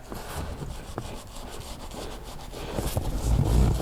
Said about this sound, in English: Lightly agitate. Spread the seams apart. Get the bristles in there.